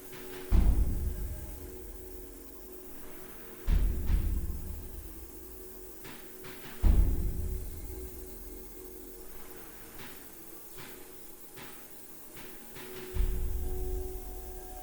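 Airbrush bursts spraying thinned Badger Stynylrez black primer onto Star Wars: Armada model ships, four separate hissing sprays of a few seconds each over a quiet background hum.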